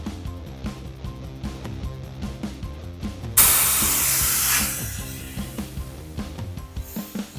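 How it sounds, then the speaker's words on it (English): Air rushes out of an opened valve on a MORRFlate AutoMagic Air Hub inflation hose, a sudden loud steady hiss lasting about a second before fading back under a rhythmic background of music. "I'm going to open this valve, and I'm going to let the air run out"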